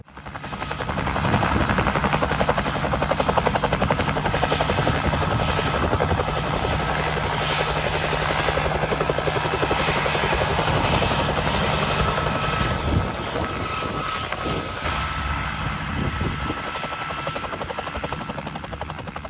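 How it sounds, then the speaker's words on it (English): A helicopter drones steadily throughout, its rotor chop loud and close with a constant engine roar, no voices present, at an auto show in Hastings, New Zealand. "a great experience in the helicopter"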